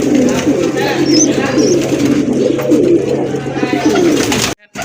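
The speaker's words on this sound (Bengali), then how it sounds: "এটাও কিন্তু দেশি কবুতর মাক্সি কালারের ভিতরে" Steady, low cooing of domestic pigeons continues throughout, close and fairly loud, with a few brief higher chirps and a murmur of voices in the background.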